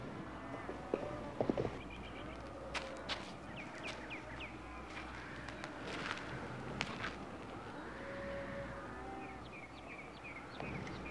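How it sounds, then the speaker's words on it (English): Horse hooves clop at a slow walk, with scattered soft hoof strikes over a quiet outdoor background and birds chirping faintly. "This here's Ed Bain's horse"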